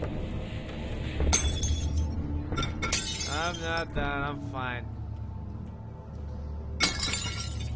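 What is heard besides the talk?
wine bottles smashing in video game Amnesia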